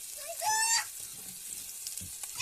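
Pomfret fish fry on a flat griddle with a faint, thin sizzle, and a brief tonal squeak briefly rises above the frying early on.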